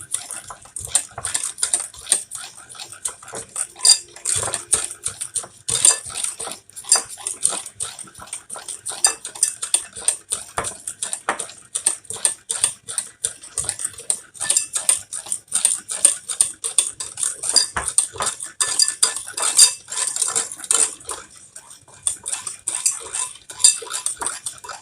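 Pancake mix is stirred with a utensil against a bowl, making rapid, continuous clinks and scrapes for nearly half a minute, close and unaccompanied by speech.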